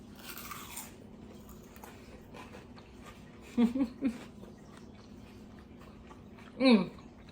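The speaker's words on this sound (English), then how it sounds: "I'm gonna take one more huge bite." A few brief crunchy bites and chews of a stuffed zucchini flower with prosciutto, basil and garlic, close and short, separated by quiet pauses.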